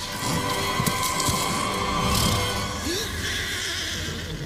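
A horse whinnies during effects footage of a horse and rider, a close, moderately loud neigh over a low steady background, with soft hoof-like thuds.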